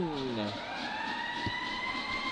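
A sustained ice hockey goal siren blares with rising tones at a high school game, while voices and crowd noise mix underneath.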